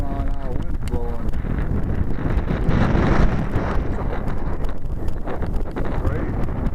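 Strong wind of over 20 mph buffets the microphone at an RC flying field, a steady loud roaring rumble that runs throughout, with voices talking underneath.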